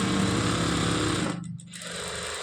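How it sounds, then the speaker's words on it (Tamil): A sewing machine stitches a blouse lining with a loud, fast, steady mechanical chatter that breaks off briefly and then resumes, heard close by with no talking. "லைனிங் அளவு என்ன இருக்குதோ அந்த அளவுக்கு தையல் போட்டால் சரி."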